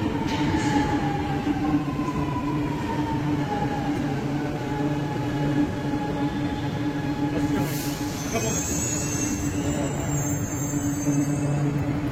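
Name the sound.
metro train arriving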